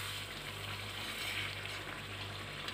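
Mutton gravy simmering uncovered in a kadai, a steady soft sizzle and bubbling that holds evenly throughout, close and moderately quiet, with no voices.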